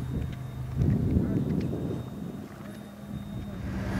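Airboat ride through the Everglades swamp: a steady low engine and propeller drone with rushing wind across the microphone, moderately loud and continuous, with a faint voice briefly beneath it.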